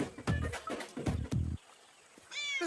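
A cat meows several times in short, loud, tonal bursts during a Hindi romantic film scene, followed by a brief pause and a higher, wavering cry at the end.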